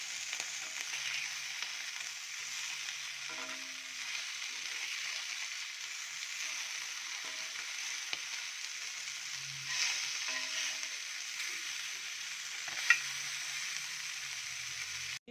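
Spicy masala fish fries on a dosa griddle with a steady, close hiss of sizzling oil for the whole stretch, broken by occasional soft clinks and shuffles as pieces are turned.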